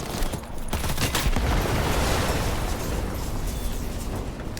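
Grenade blasts in Cyberpunk 2077 combat: a loud, dense rumble of explosions and crackling pops rolling continuously, broad and close with scattered sharp bursts throughout.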